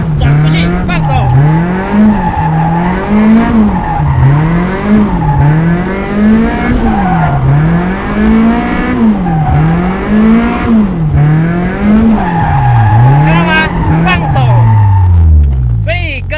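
A car drifting through figure-eight donuts, with the engine revving up and down in a steady looping rhythm and tires squealing loudly throughout, close and continuous, as someone talks over it.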